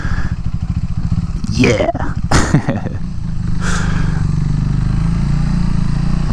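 A Honda CBR 250R motorcycle rides along with a steady, loud engine drone and wind rush, the pitch shifting as the throttle changes, while a rider briefly speaks over it.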